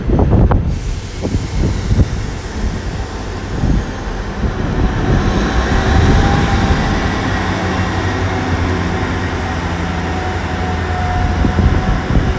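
A stone blower maintenance train runs through platform 5 at Exeter St David's station, a loud, close, steady rumble of wheels and engine that swells at the start and then holds as it passes, with no voices.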